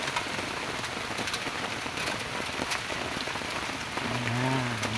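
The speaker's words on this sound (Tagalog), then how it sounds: "Malakas ang ulan pa." Heavy rain pours steadily on surfaces outdoors near a hillside hut, a dense, even hiss with scattered louder drops, and a brief low hum rises near the end.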